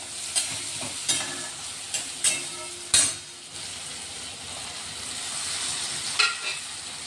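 Onions and finely chopped tomato frying in a pan, a steady sizzle broken by several sharp scrapes and knocks of a spoon stirring, close and alone without talk.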